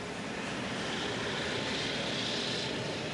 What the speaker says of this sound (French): Boeing conçoit un nouveau bombardier à réaction, le B-52 Stratofortress.